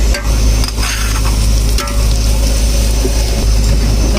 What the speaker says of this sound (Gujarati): મસાલો પણ મિક્સ કરી નાખ્યો.